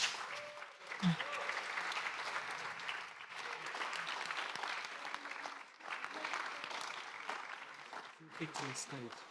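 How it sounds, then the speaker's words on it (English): Summit audience applauding startup inventors at a showcase, sustained moderately faint clapping throughout, with voices talking over it near the end. "Let's once again applaud the ingenuity and the invention"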